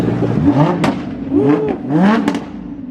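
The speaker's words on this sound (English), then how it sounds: "We got a Huracan revving up over here." Close by at an outdoor supercar show, a Lamborghini Huracan's engine revs loudly in repeated rising and falling sweeps, about three sharp blips, with a brief crackle between them.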